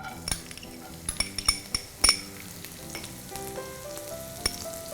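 Chopped vegetables, onions first, go into hot oil in a wok and fry with a close, steady sizzle. Scattered metallic clinks and stirring knocks of utensils against the pan sound over it, with no talking.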